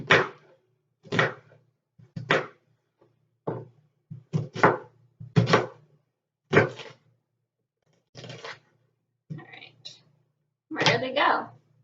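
Knife chopping an onion on a cutting board, cross cuts made at right angles to earlier cuts: a dozen crisp, close thunks in irregular bursts, with brief pauses between strokes and no talking.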